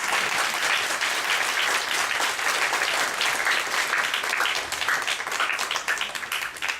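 An audience at a church year-end talent show applauds after a play, dense and loud clapping from many people sustained throughout, thinning slightly toward the end.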